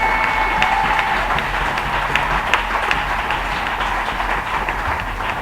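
A congregation at a French-language worship service applauding steadily to acclaim the Lord, a dense, continuous wash of clapping with scattered cheers, fairly close and unbroken throughout.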